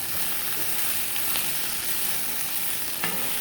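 Red onion sautéing in about a tablespoon of oil, a steady close sizzle and crackle of frying that holds evenly throughout with no talk.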